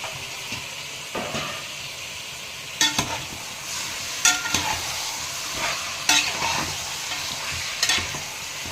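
Chicken frying in oil with onions and green chillies for a chicken curry, giving a steady close sizzle broken by regular scraping stirs and clatters of the spatula, with no talk.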